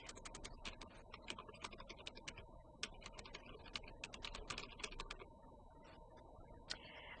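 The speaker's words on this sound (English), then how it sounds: "So here we're going to type in the link." Someone types a web link on a computer keyboard: quick, light key clicks patter in an uneven rhythm, fairly faint and close, with no other sound around them.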